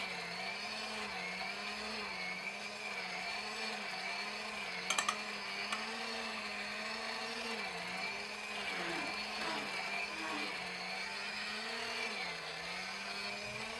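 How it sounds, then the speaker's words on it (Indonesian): Stand mixer kneading bomboloni donut dough made with low-protein flour at high speed, a steady whirring motor drone with a slow rhythmic wobble as the dough slaps around, continuous and fairly quiet. "Kemudian naikkan speednya dan mixer sampai kalis elastis."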